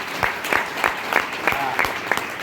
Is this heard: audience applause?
yes